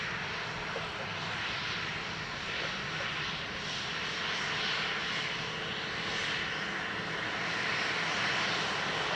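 An airliner's engines roar steadily at Dublin Airport, a loud, broad, continuous rumble that holds throughout without talking.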